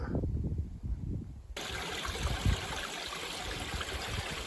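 Fresh water from a small spring on the mountain Quinaig trickles steadily close by, at first faint under low rumbling, then a sudden loud continuous rushing hiss that fills the rest.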